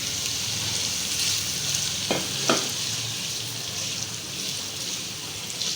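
Green chillies and ginger frying in oil in a pan for a maash dal, giving a continuous bright sizzle with a couple of brief stirring scrapes near the middle. No one speaks.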